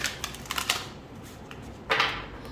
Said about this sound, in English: Let's give it one good shuffle.